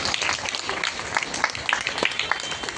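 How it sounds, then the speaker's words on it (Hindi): A congregation at a Christmas Day service claps to welcome a guest, giving close, scattered, uneven hand claps mixed with voices from the crowd. "सारे ताली बजाकर उनको हम स्वागत करें।"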